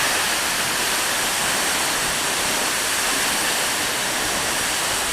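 Seljalandsfoss waterfall roaring in a steady, dense broadband rush that fills the whole clip, loud and unbroken with no voices.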